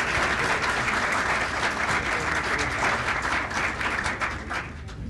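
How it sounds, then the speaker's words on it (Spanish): Loud, sustained applause fills a hospital conference hall as an audience honours a doctor, a thick wash of many hands clapping evenly throughout. "yo pido un fuerte aplauso para el doctor Eusebio"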